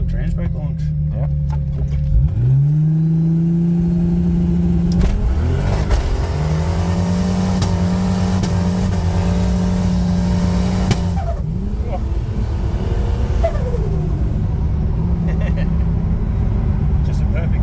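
A Holden VL Turbo Commodore does a trans brake launch, its engine held at high revs with a steady drone, then surging and revving hard through gear changes, loud and close, with voices talking over it.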